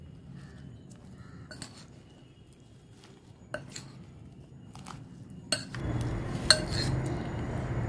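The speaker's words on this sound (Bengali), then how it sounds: "সব দিয়ে আমি এবার একসাথে মেখে নেব" Mango chicken salad being tossed with honey in a bowl, with soft intermittent clinks and scrapes of a utensil against the dish, quiet and close, becoming denser near the end.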